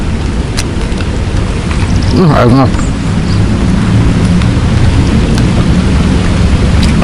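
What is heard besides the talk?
heavy rain with thunder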